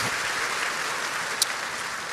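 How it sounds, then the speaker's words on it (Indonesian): A church congregation at a Christmas service applauds, a steady, diffuse wash of clapping that sounds somewhat distant. "Berikan tepuk tangan kita untuk Tuhan kita"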